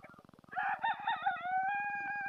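A single rooster crows in a poultry shed where roosters are kept separately, a fairly faint drawn-out call that rises and then holds, over a steady low pulsing background.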